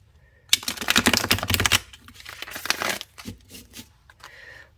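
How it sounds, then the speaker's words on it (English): Rapid riffling and slapping of a tarot card deck being shuffled, coming in dense crisp bursts for about two seconds, then in looser, more scattered flicks. "let me go ahead and shuffle it"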